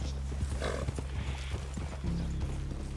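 Horse hooves clip-clop steadily at close range in the video game Red Dead Redemption 2, with a brief whinny partway through, over a low continuous background hum.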